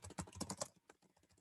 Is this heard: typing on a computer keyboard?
yes